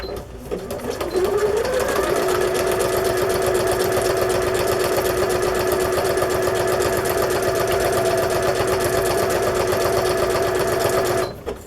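A new electric sewing machine stitches through card journal pages, its motor quickly spinning up into a steady, fast, loud whirring hum with a rapid needle chatter that runs unbroken before stopping.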